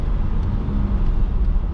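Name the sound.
Nissan Patrol engine revving in sport mode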